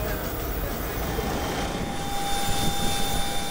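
A Hawker 800 business jet gives off a steady engine roar with a faint high whine, continuous and moderately loud, with no speech.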